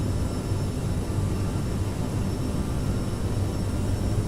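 CRJ700 regional jet engines spooled up to takeoff power in Microsoft Flight Simulator, a steady, loud broadband roar with a faint high whine, unchanging throughout and without voices.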